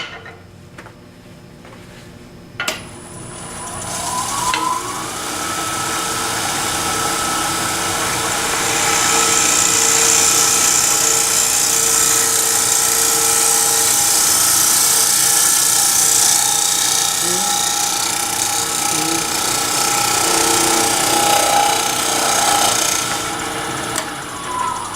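A wood lathe spins with a steady hum as a bowl scraper cuts a bowl, producing a sustained hissing, rasping shear that lasts roughly twenty seconds before easing off.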